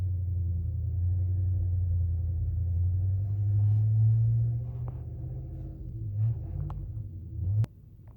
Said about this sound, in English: this guy with this truck. I might have to come back later. It's just loud.